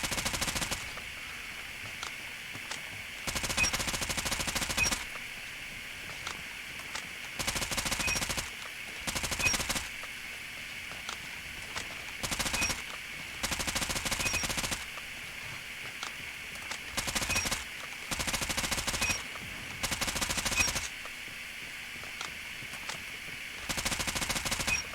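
Bursts of rapid automatic fire from an AS VAL rifle in ranked mobile shooter gameplay, several sustained volleys separated by short pauses, loud and close with no talking.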